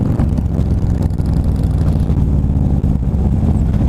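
A Harley-style motorcycle with a 103 motor runs steadily close by, a loud continuous low engine rumble with a throbbing idle character and no voices.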